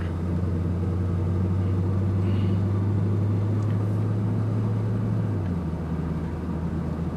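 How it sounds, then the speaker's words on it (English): A car rolls along a residential street with its automatic transmission in drive, a steady loud engine drone that drops in pitch as it shifts up through the gears toward third. "You can see this car just handles beautifully, rides beautifully, just shifted all through the gears to 3rd gear."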